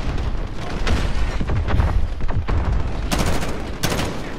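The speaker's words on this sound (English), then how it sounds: "This is a very persistent man with a really big machine gun up there" Sustained machine gun fire in a Call of Duty Modern Warfare campaign battle, dense continuous bursts with heavy booming impacts and sharp cracks throughout, loud and close.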